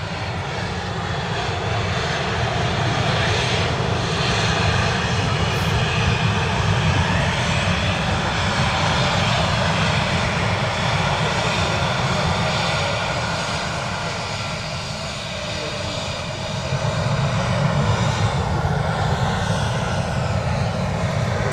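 A TUI Boeing Dreamliner jet lines up on the runway at Manchester Airport, its engines giving a steady, loud broadband roar that holds for about twenty seconds with a slight dip and swell, heard from a distance outdoors.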